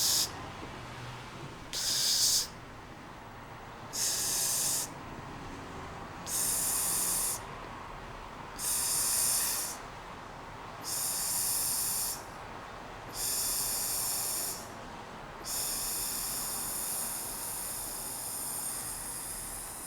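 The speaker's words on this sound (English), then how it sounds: "so you can hear it really extends the duration of the exhale" Repeated slow, prolonged exhales through a bamboo tube as a breathing exercise, each a soft airy hiss lasting a second or more, separated by quiet pauses for inhaling.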